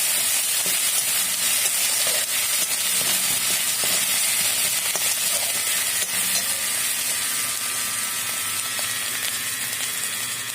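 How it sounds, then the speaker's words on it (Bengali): Spice masala fries loudly in a pan for prawns with bottle gourd, a thick continuous sizzle broken by scattered scraping and stirring clicks from a spatula, close and steady with no voices. "তারপরে পুরো মশলাটাকে ভালো করে কষাতে হবে"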